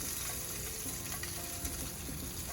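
Tortillas frying in oil in a pan, a dense continuous sizzle with crackling, close and steady throughout.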